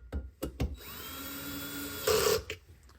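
Screws being driven snug into a Philips 175-watt mercury vapor NEMA-style area light, a few short clicks followed by a sustained whirring drill-like run that briefly gets louder near the end.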